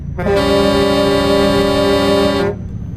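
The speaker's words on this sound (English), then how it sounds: "Let's try out the air horns." A loud, blaring truck air horn in Euro Truck Simulator sounds in one long sustained blast of about two seconds, harsh and brassy, then cuts off.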